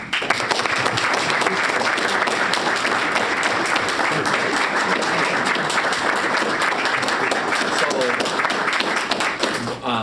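Sustained audience applause at a school district board of education meeting honoring a part-time school security and lunchroom worker, dense steady clapping filling the room for the full stretch without pause.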